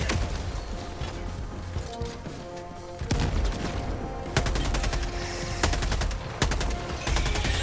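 Automatic gunfire from a deployed sentry in Helldivers 2 rattles in rapid bursts amid explosions and battle noise, loud and dense, with short gaps between volleys.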